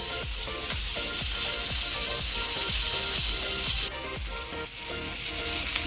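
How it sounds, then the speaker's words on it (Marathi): Masala-stuffed bangda mackerel frying slowly in a pan over low heat, a steady loud sizzle with rhythmic scraping strokes from a spatula throughout. "आपले फिश चांगल्या प्रकारे फ्राय होते ना बरोबर"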